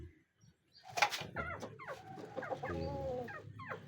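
Native chickens, including a rooster, cluck and squawk close by in a new coop, a busy overlapping chorus with one louder bird standing out among the rest.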